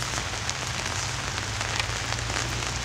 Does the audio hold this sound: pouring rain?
yes